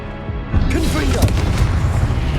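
A deep boom from a Confringo blasting curse bursts out in a Hogwarts video game and keeps rumbling, with crackling impact debris and game voices and effects layered over the blast.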